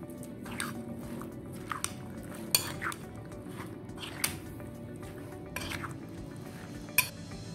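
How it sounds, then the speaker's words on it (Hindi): Black chana chaat tossed with lemon juice and spices, giving soft wet squishes and a few light spoon clinks against a bowl at a steady, unhurried pace, close by with no talking. "लेमन जूस और मसाले डाल के अच्छे से मिक्स कर देंगे।"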